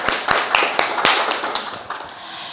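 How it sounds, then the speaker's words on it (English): Applause from the audience at a final project conference, a dense patter of many hands with some sharp individual claps standing out, continuing steadily and easing slightly at the end. "Applauding to you."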